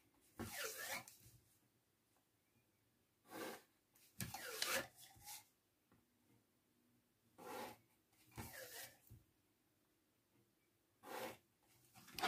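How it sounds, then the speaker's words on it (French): Pencil scraping along a ruler across cardboard, a series of short raspy strokes in uneven bursts separated by quiet pauses, close and fairly faint, with no talk. "Et tout simplement, à l'aide d'un crayon et de votre règle, vous allez rejoindre."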